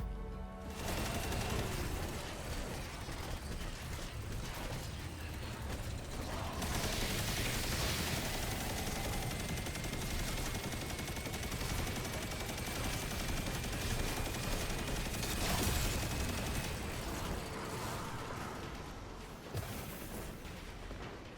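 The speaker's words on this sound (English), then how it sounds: "The Retrofit Escapade has always been a monster of a machine gun" A heavy machine gun in the video game Destiny 2 fires in long, dense continuous bursts, loud and rapid, with explosive booms and no talk over it.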